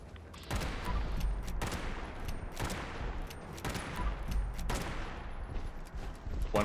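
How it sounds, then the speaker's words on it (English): A lever action rifle fires in Fallout 76 at a big boss enemy: several sharp, loud shots about a second apart, each ringing out in a short echoing tail. "now we're going to use the lever action rifle"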